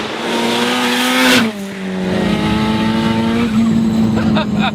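A turbocharged F20B-engined Honda Integra revs hard and accelerates, pitch climbing, dipping at a gear change, then rising again; loud and close.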